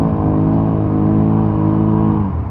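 A BRP 1000 ATV engine revs hard and steadily at close range in mud, a dense, throbbing roar that holds for a couple of seconds before easing slightly.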